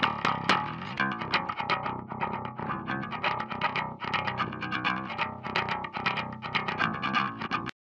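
Heavily distorted bass guitar chugs through a dense metal riff, low-pass filtered at around 5 kHz so the tone sounds dark and muffled, steady and loud with no voice.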